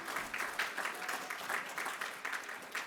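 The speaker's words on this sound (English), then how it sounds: "Clap, I don't care, scream." Applause and cheering from the audience at a Batten disease community dinner dance, a short burst of clapping with rhythmic pulses, moderately distant and free of speech.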